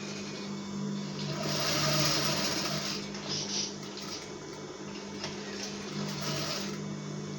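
A sewing machine stitches an invisible zipper with a steady, close, whirring mechanical hum and a fast needle rhythm that holds for several seconds and then eases slightly, with no talk.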